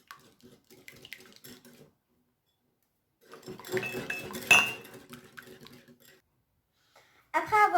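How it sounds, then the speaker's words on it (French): A utensil clinks and scrapes in a frying pan while cream is mixed for a stovetop pizza, in intermittent bursts with quiet gaps, and a voice speaks briefly. "On mélange."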